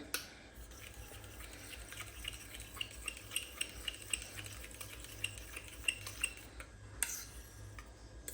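A spoon scrapes and taps against a dish while spices are mixed, a run of light metallic clinks and scrapes, close and fairly quiet, with no talk.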